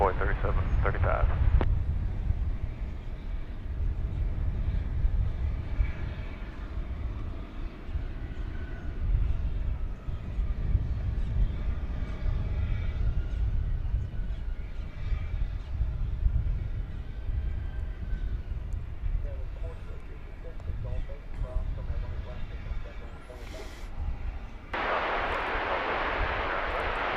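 A heavily laden cargo airliner roars down runway 18 left at Dallas Fort Worth airport at night and lifts off, a steady loud broadband engine rumble sustained throughout with no break.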